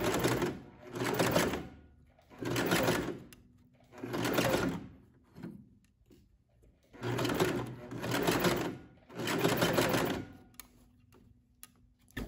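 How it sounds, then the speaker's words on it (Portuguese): A sewing machine stitching a straight seam along a folded fabric edge: six rapid whirring runs of needle chatter, each one to two seconds long, separated by brief quiet pauses, close and clear. "Aí depois eu retiro o primeiro alfinete e começo a costura reta."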